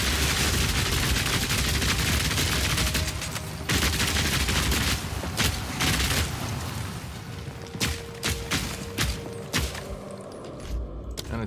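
A fully automatic crossbow fires rapid streams of bolts in Path of Exile 2, a dense, loud rattle of shots and impacts that comes in bursts with brief pauses between volleys.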